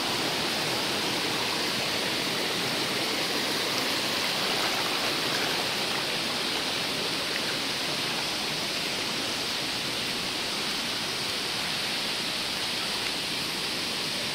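A waterfall roars in a constant, dense wash of rushing water, loud and steady throughout with no talk over it.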